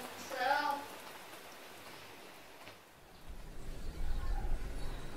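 Steady rain falls outdoors as a soft, continuous hiss that grows slightly louder and rougher near the end. A voice is heard briefly at the start.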